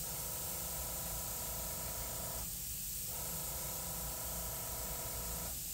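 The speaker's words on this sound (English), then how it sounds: "get comfortable with your airbrush and your trigger control" An airbrush sprays paint in short practice bursts of dots and daggers, giving a steady close hiss that cuts off briefly partway through and again near the end, with no talking.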